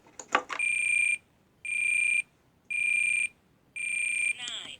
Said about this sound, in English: Clear that alarm.